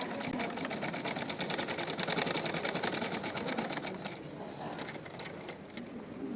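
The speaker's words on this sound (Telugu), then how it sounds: "ఇది మాత్రం బక్రం పక్కగా స్టిచ్ వేసుకోవాలి." A sewing machine runs a fast, continuous rattling stitch along buckram at the neck of a Punjabi dress, steady and close, then slows and stops briefly before another short run.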